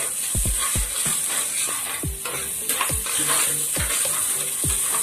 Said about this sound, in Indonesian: Kita akan tumis lagi sekali semua bahan-bahan ini sehingga dia naik harum-harum